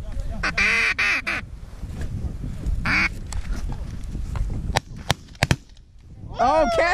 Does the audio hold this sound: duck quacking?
yes